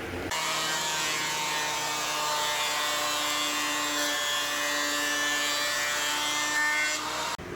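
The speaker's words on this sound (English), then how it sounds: "it's time for the planer to flatten the top and the bottom." A wood planer flattens boards of scrap wood with a loud, continuous whining roar that holds steady, close and unbroken throughout.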